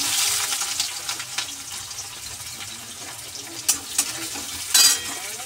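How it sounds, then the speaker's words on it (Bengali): Eggplant frying in a pan with a little onion and chilli, giving a steady soft sizzle with faint stirring scrapes and a couple of brief louder clatters near the end. "এই যে অল্প পেঁয়াজ লঙ্কা আর বেগুন দিয়ে ভাজা মতো করবো।"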